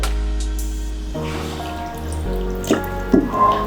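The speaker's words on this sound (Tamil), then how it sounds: "இன்னும் கொஞ்சம் தண்ணி சேர்த்துக்கிறேன்" Water trickles and drips into a bowl of flour paste while a traditional Tamil sweet is prepared, a close, steady pouring sound with a few sharper splashes near the end.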